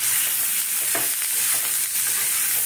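Vegetables seasoned with salt and turmeric fry in a hot pan while being stirred, a steady close sizzle with scraping stir strokes throughout, no voices.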